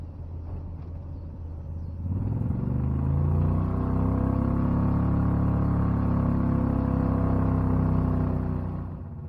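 A Renault car fitted with a 670cc Predator engine, driven in 3rd gear: a steady, loud engine drone that swells after a quieter start and holds a sustained, even note close by.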